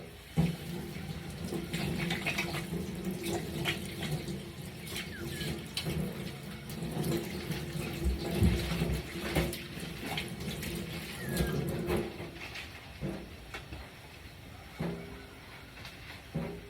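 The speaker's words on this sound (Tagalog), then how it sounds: "Nilagyan ko na ng tubig." Water pours into a cooking pot holding meat, a steady close splashing wash that runs continuously before thinning out toward the end.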